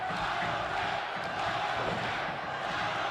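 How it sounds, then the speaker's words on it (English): A wrestling crowd at an NWA World League Wrestling event keeps up a steady, dense roar of cheering and shouting from the arena, loud and continuous throughout with no clear breaks. "The crowd here trying to get behind him."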